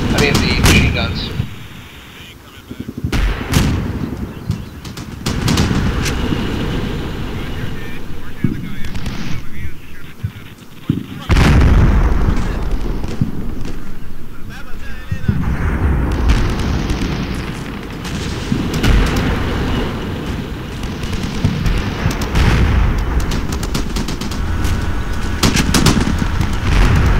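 Gunfire in the Combat Mission: Shock Force video game, loud and close: repeated machine-gun bursts and heavy booming tank shots land over a steady battle roar. Some distant rumbling blasts fill the gaps, and someone talks over it.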